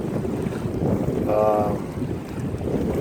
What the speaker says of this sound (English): It is super cold, super windy right now.